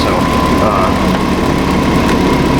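A Hyundai Santa Fe engine idles with a steady, loud, even rumble and a constant hum throughout, without clear surges.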